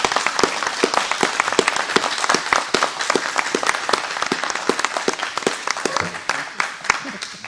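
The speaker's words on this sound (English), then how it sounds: "I would like everybody to give Sue a great applause for her dedication to the town." A town informational meeting audience applauds for the retiring town clerk, loud close clapping with sharp individual claps over a dense crowd, tapering slightly at the end.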